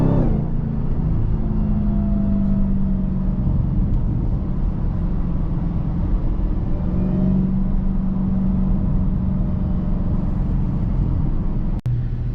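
A Dodge Demon 170 car engine running on E85 fuel holds a steady, loud, low rumble that stays constant, with a brief sharp click near the end and no talk.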